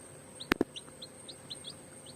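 Native chicken chicks chirp in a small batch as a string of thin, high peeps at a steady pace, with two sharp louder knocks near the start.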